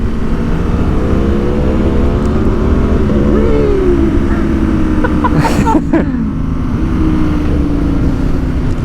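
A 2021 Aprilia Tuono V4 motorcycle fitted with an aftermarket exhaust revs close and loud, its deep steady drone rising and falling in pitch through several throttle blips.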